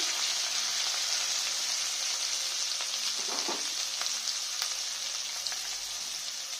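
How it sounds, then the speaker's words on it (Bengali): Ginger, garlic and onion fry in a pan while being stirred, giving a steady bright sizzle with a few faint scraping stirs midway. "আদা রসুনের গন্ধটা যতক্ষণ না যাবে ভালো করে আমি নেড়ে নেবো। এর সঙ্গে পেঁয়াজের সাথে ভেজে নেব।"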